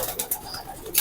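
A pigeon, a bird from a racing or breeding bloodline, coos softly nearby in short repeated murmurs, with faint background noise and no speech.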